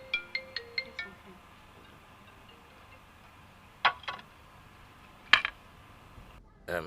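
A telephone rings with a quick run of short, evenly spaced electronic tones, followed by a few louder, sharper bursts spaced a second or more apart. The ringing is fairly faint against a quiet room, with no talking.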